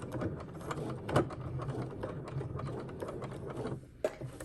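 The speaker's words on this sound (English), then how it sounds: "I'm going to hit that locking stitch" A home sewing machine runs a short locking stitch through fabric, a faint rapid mechanical whir with a few sharper clicks and a brief stop near the end.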